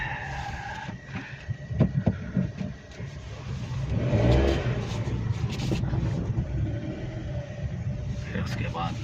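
A Suzuki Wagon R engine, just restored, turns over and revs, a mid-pitched rumble that swells to a strong rev in the middle and then settles into a steady idle, with voices talking over it.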